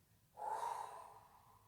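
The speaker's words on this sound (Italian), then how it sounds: "Fuori il respiro." A single long out-breath during a yoga exercise, starting sharply and then fading slowly, close and soft with no voice over it.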